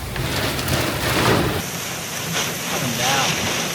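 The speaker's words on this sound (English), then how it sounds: "It's literally shaking the car. Oh my goodness. Oh my gosh. This is 70-mile-an-hour winds." Rain and roaring wind from a severe thunderstorm in Rome, New York, with gusts around 70 mph, batter and rock a car, a dense loud rushing hiss heard from inside with brief bursts of background noise.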